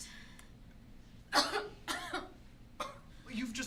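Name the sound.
coughing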